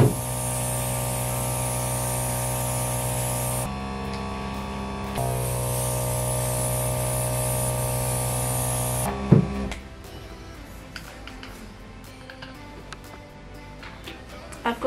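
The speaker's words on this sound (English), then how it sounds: "Airbrush." A makeup airbrush sprays steadily in long continuous hissing bursts with a brief pause between them, close and fairly loud over a low hum, then stops and quieter room sounds follow.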